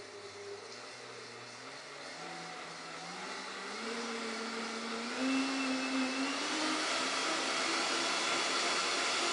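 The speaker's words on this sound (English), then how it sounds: "it's still loud because it's a blender" A Vitamix Ascent X5 blender runs with a steady motorized whir and rising pitch, loud and continuous, spinning up and holding at high speed.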